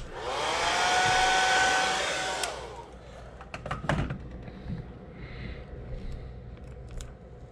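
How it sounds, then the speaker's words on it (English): A heat gun or hair dryer blows hard for about two and a half seconds to heat-set airbrushed paint on a perch fishing lure, then clicks off, followed by light handling taps and rustles nearby. "I'm gonna heat set this real quick."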